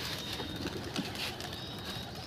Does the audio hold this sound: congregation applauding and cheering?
no